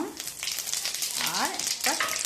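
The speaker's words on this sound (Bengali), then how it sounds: "তেলের মধ্যে আমি পাঁচফোড়নটা দিয়ে দেবো আর একটা শুকনো লঙ্কা দেবো" Panch phoron and a dried chili fry in hot oil, giving a continuous crackling sizzle that runs throughout while someone talks over it.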